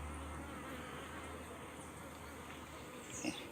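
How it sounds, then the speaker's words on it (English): Honeybees buzz steadily around the entrance of a hive before rain, a dense continuous hum close to the microphone, with one bee passing nearer and louder near the end. "One bee is trying to get rid of me, too close to the entrance there. Buzzing around like that."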